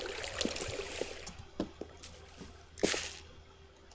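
Scattered drips of water from rain pooling in a video game world, a few soft wet plinks and splashes at irregular intervals, faint and alone over a quiet background.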